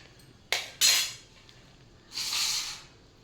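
Roasted coriander seeds for rasam powder are poured from a pan into another vessel. Two quick metallic clatters are followed by a longer rushing pour of seeds, close by and without talk.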